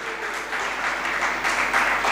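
A crowd applauds during a Jain religious discourse. Loud, dense clapping holds steady throughout, with a slight swell toward the end.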